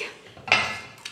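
Plates and dishes inside a cupboard clink together in a sharp ceramic clatter, followed by a fainter knock, close by with no talk.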